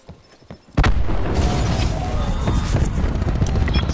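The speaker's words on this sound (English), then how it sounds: "Throwing cluster grenade." Cluster grenade going off in Call of Duty Black Ops 4: a sudden loud boom at under a second, then a sustained rumbling wash of overlapping blasts and crackles that continues to the end.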